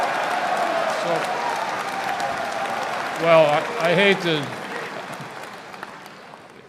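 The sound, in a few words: audience clapping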